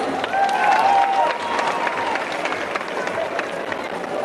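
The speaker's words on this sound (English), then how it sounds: "So clap the dog Furu and his handlers." A crowd at a police expo in an arena applauds a police dog and its handlers, a moderate wash of clapping and cheering across the space with a voice over it.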